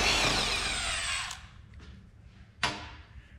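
A power drill spins loudly up close while backing 3/4 inch bolts out of an old tilt table under restoration, then winds down, followed by a short burst and a final sharp whir.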